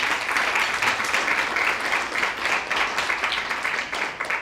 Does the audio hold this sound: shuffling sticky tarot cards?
no